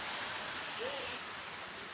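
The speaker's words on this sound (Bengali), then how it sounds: "এত পরিমাণ বাতাস হচ্ছে বাতাসের কারণে ঘরের চাল উড়ে নিয়ে গেছে প্রচুর পরিমাণ বৃষ্টি" Heavy rain from Cyclone Remal lashes down in Narayanganj, a dense, even roar of falling water heard steadily and at moderate volume, with no clear voices.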